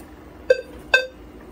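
A Silent Knight 6808 fire alarm control panel gives two short, bright electronic beeps about half a second apart when the system is reset, close and clear over a low hum.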